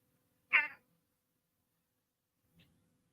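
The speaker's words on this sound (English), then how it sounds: "Is that her meowing?" A house cat meows once, close and fairly loud, with a short spectral burst, then a much fainter second sound after two seconds of quiet.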